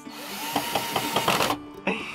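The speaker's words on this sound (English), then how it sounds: "The monster knows how to use a drill" A power drill whirs in short bursts, with brief pauses between the revs, close by and fairly loud, during furniture installation in a VW T5 camper van conversion.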